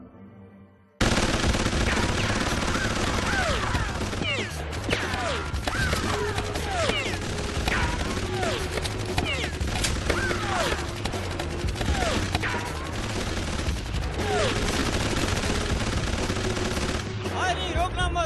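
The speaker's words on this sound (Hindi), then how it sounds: "वो यहाँ सब पर गोली चला रहा है।" Sustained loud gunfire from the Killer Bean animation: rapid machine-gun bursts and overlapping shots with ricochet-like whines, continuous for most of the stretch.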